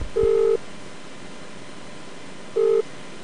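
Telephone dialing tones on a call, two short steady beeps spaced a couple of seconds apart over a faint line hiss.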